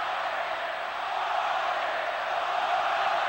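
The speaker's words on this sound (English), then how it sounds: "Listen to this crowd." A huge stadium crowd at a River Plate vs Boca Juniors football match roars as one dense, continuous wall of sound that stays loud and steady throughout.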